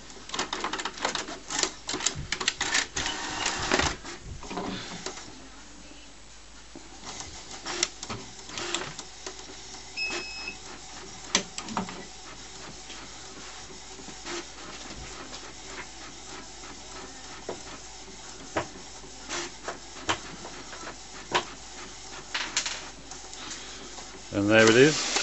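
An HP Photosmart D5160 inkjet printer fitted with a continuous ink system runs its startup initialization, a close sequence of clicks, clacks and whirring carriage movements, busiest at the start and end with quieter mechanical stretches between.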